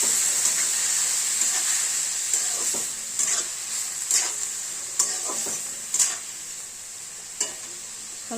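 Bottle gourd curry with garlic and mustard paste frying in a home kitchen pan, a continuous sizzle broken by repeated scraping stirs about once a second, fairly close.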